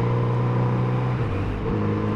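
Idling car fitted with a tuned aftermarket exhaust, a steady low burble with a brief dip and rise in engine note, close and fairly loud with no talking.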